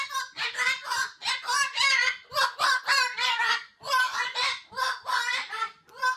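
Goose-like honking calls repeated in a fast, steady series of loud, harsh bursts, close and continuous throughout.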